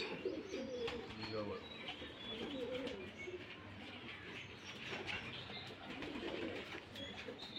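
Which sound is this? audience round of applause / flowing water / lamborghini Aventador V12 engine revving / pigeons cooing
pigeons cooing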